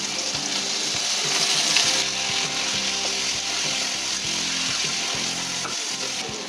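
Potatoes fry steadily in a pan, and a handful of washed polao rice is tipped in with them. A continuous close sizzle carries scraping and stirring knocks throughout, with no voices.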